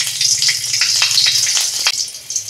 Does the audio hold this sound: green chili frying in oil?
yes